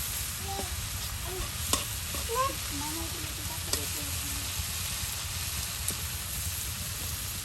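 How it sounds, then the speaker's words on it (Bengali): Kalmi greens stir-fry in oil over a rural cooking fire, a moderate constant sizzle with occasional clicks of stirring and faint voices or chirps drifting in the background. "একদম তেলের সাথে এখন এই শাকগুলো কিন্তু মিক্স করে নেওয়া হলো দেখুন তেল তেলে শাক ভাজি"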